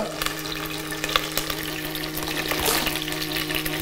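Mustard seeds and curry leaves sizzle in hot oil for a tomato rasam, a steady close crackling fry with sharp pops throughout.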